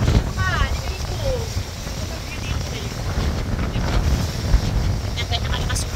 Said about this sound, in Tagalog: Ganyan kalakas yung hangin.